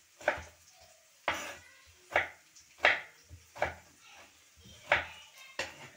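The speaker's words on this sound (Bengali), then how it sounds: "এই যে কাটলাম টমেটো" Knife chopping tomatoes on a board in a home kitchen while cooking a simple fish dish with greens: seven sharp, evenly spaced cuts, close and distinct, with faint background clatter between strokes.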